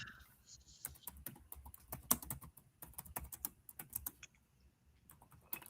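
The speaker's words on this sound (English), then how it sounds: "what are you typing over there?" Quick, irregular clicks of someone typing on a computer keyboard, faint and close, with soft bursts of keystrokes and short pauses, under a quiet room background.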